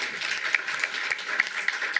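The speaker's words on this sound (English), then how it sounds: "A round of applause for the Civil Beach team." A small office crowd claps for a team of coworkers, steady dense applause at moderate volume for a couple of seconds.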